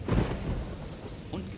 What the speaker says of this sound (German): Und Gewitter.